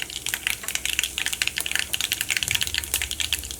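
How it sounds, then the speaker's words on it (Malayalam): Mustard seeds pop and splutter in hot oil, a dense run of quick sharp crackles over a low steady sizzle, close and fairly loud, with no voices. "അപ്പോൾ നമ്മുടെ കടുക് പൊട്ടി തുടങ്ങിയിട്ടുണ്ട്"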